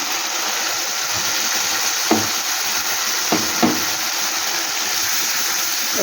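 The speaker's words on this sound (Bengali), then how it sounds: "মশলাটাকে আমি ভালো করে একটু কষিয়ে নেব" Masala paste with coriander powder, cumin and tomato frying in a pan, a steady broad sizzle with a few soft scrapes of stirring across it, held at an even, moderately loud level.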